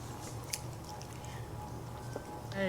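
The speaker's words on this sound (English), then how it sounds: "I'm sitting here chewing." Someone chews food close to the mic, with soft, wet biting and mastication sounds over a low, steady room hum.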